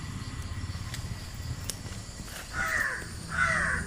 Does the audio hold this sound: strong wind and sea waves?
no